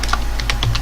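Quick keystrokes on a computer keyboard, a short burst of several distinct clicks in an uneven rhythm, close and clear with no talking.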